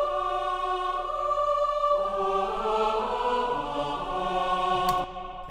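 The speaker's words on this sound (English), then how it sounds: "We're doubling that with a children's choir." A children's choir doubles the female and male choirs in the orchestral score for The Polar Express, all doubling the main string melody: sustained layered voices shifting to a new chord partway through, full and steady, with no talking.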